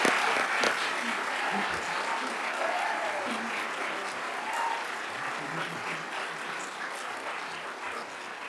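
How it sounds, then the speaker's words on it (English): An audience at a college awards and graduation ceremony for Fordham College at Lincoln Center applauds graduating honors students with a steady, moderately loud wash of clapping that runs unbroken throughout. "Oh, should I just go clap for these people?"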